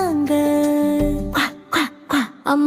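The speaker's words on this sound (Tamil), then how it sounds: "அம்மா வாத்து கூப்பிட்டா." A mother duck in a sung nursery rhyme gives a string of loud, close nasal quacks, four or five in quick succession after a sustained sung or tonal passage.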